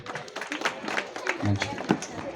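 A small group claps at an engagement ceremony. The claps form a scattered, uneven patter mixed with people talking.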